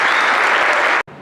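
Dense, loud audience applause at a forum's closing panel, sustained clapping that cuts off abruptly near the end.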